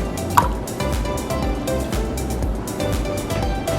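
Orange juice pours into homemade orange cinnamon pancake batter in a bowl, making a soft, steady liquid trickle with small splashy drips, heard close.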